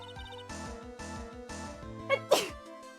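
A single short sneeze near the end, sudden and sharp, heard over a looping background music track in the Ace Attorney courtroom game.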